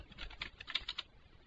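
Quick run of light keystrokes on a computer keyboard at a Linux terminal, about a dozen soft clicks in an uneven burst lasting roughly a second, close and fairly quiet, then silence.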